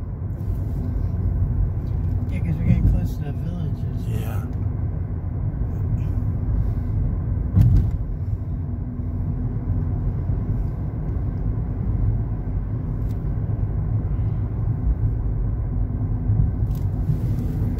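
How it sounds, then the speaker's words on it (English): Traffic on a road outside Wildwood, Florida makes a continuous low rumble, with vehicles droning past at moderate distance and occasional louder swells. "A little bit of traffic out today."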